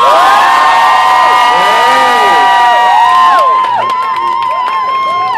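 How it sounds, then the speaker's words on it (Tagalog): A loud crowd cheers, whoops and shouts for karaoke singers Ramon and Sean, high excited voices layered together, thinning slightly toward the end but continuing throughout. "Give it up for Ramon and Sean!"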